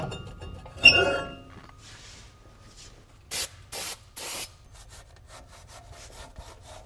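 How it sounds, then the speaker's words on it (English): Metal clinks and a few short scraping rubs sound close by as a brake rotor is worked off the rear axle of a 2017 RAM 2500, with quiet gaps between the noises. "the last step of the disassembly is just to remove the rotor off the axle"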